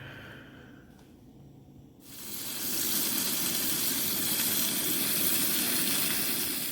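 Bacon and egg for an English muffin cooking at a campsite: a quiet stretch gives way to a loud, steady hissing sizzle that holds evenly to the end, with no speech.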